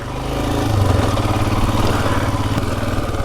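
A Royal Enfield Himalayan motorcycle rides along a single-track trail, its engine a loud, close, steady throb with a slight rise in revs and no talking.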